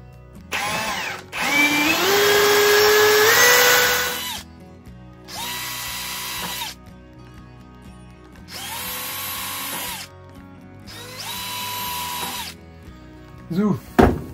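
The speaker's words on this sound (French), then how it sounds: "il faut que je perce ici aussi" A power drill bores holes while a cyclone vacuum is being built, with one long run whose pitch steps up under load and then three shorter bursts separated by pauses; close, with brief sounds of handling at the end.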